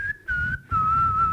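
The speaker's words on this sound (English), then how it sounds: "Now you can whistle for us." A person whistles a few sustained notes on stage before a tech talk, clear and close, in three short held segments with brief breaks between them.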